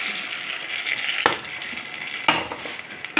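Hot tempering poured into a pot of sambar sizzles and crackles steadily, with a few sharp clinks of a metal spoon or vessel standing out against the frying hiss.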